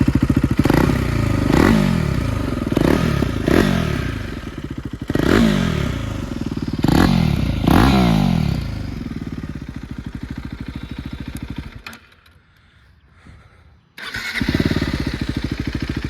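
A 2022 KTM RC 390 motorcycle with a modified Akrapovic exhaust revs loudly and repeatedly with a throaty, popping rumble, rising and falling in bursts, then briefly cuts out before roaring again.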